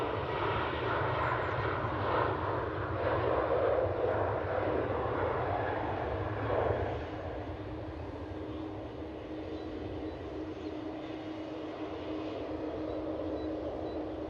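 A TUI airliner departs Manchester for Malaga, a moderately distant jet rumble that holds for several seconds and then drops away to a quieter background wash, with no voices.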